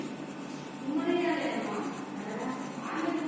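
A 2B pencil shades lightly across paper with a soft, continuous scratchy rustle, close but faint, as strokes build up medium tones.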